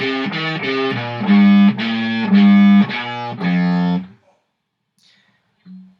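A heavily distorted electric guitar plays a short, chunky riff of repeated low notes for about four seconds, then cuts off into near silence.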